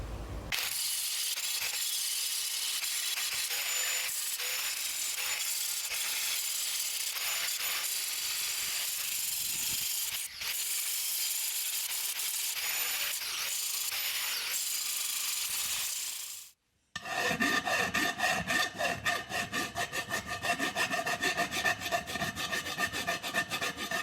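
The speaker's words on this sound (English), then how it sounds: "I'm gonna grind down each of the welds now flat" Steady, harsh abrasive grinding down welds on a steel frame runs continuously for a long stretch, drops out briefly, then returns as a rougher, rasping grind.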